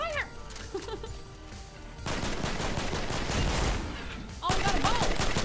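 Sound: gunfire in the video game Fortnite

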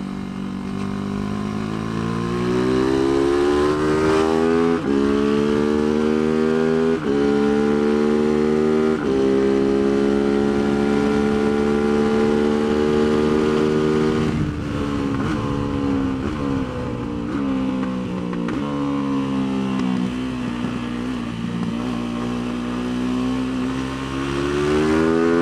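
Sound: Tianda TDR300 race motorcycle engine accelerating in third gear

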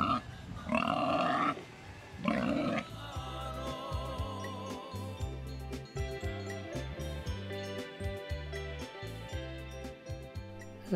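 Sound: pigs grunting

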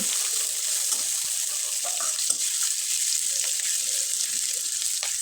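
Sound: onion, garlic and chili frying in oil, stirred in a pan

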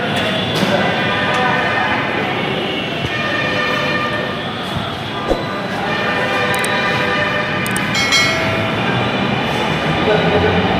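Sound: Dhaka metro rail train

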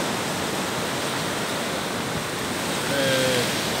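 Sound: strong ocean waves at Praia do Ervino beach

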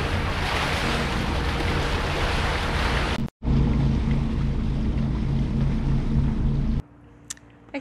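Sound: motorboat motoring at sea from Fort Lauderdale to Miami

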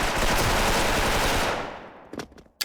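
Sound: gunfire in the video game Special Force

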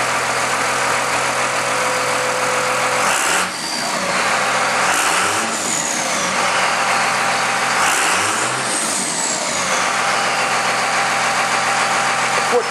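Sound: car engine with Magnaflow exhaust revving

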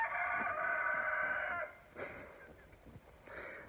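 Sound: rooster crowing

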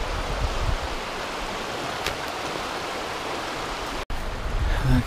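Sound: Bear Creek flowing

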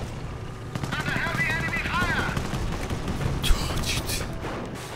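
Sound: Flak Panzer gunfire in Company of Heroes video game

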